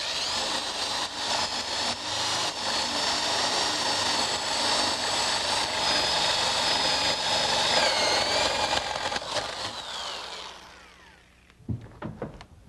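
A power drill bores through a piece of wood stock clamped beneath it, its motor whining steadily and loudly for about ten seconds before winding down and stopping, followed by a few clunks.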